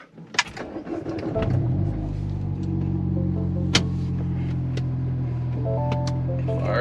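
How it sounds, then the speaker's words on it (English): A Mini Cooper engine cranks over with clicks and a whir, catches and settles into a steady idle rumble heard close up, with a few small clicks and beeps over it. "Fires up like day one."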